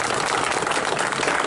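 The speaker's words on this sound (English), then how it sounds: "One last big round of applause for Kyle." A live comedy audience at the Edinburgh Fringe Festival gives a performer named Kyle a round of applause, heard as steady, dense clapping that fills the space evenly throughout without a break.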